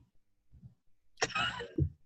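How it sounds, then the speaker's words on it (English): A single person coughs or clears their throat once, a short harsh burst close by, with a few faint soft sounds before it and near silence around it. "You're just coughing at all your cheesiness."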